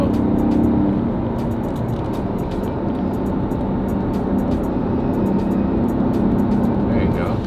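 A car driven hard out of a corner gives a steady, loud engine roar under a broad road and wind rush, sustained for several seconds, with people talking in the cabin.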